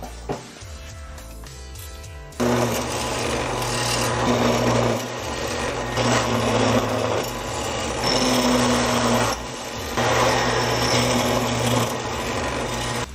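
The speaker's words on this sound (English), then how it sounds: "now we can go to a medium-sized drill bit" A power drill bores holes with a medium-sized bit during a wheel spacer install in a garage, a steady loud grinding whir that runs in long bursts with brief dips, starting after a short quieter stretch.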